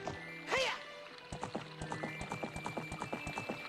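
Horse in The Legend of Zelda: Ocarina of Time giving a loud whinny, then breaking into a gallop with a steady, rapid rhythm of close hoof clops that continues to the end.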